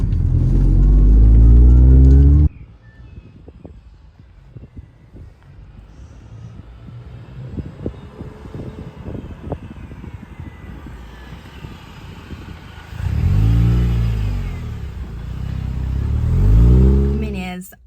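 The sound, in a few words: MINI R53 car engine while driving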